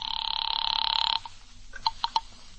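An old-fashioned telephone rings in a vintage radio drama, one loud electric ring cut short, followed by a few faint clicks.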